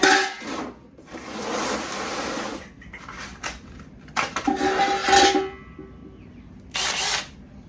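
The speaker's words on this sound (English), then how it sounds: "I'll go ahead and drill that hole" A power drill grinds through metal in several loud bursts with short pauses between, the whine rising and dropping as the bit bites.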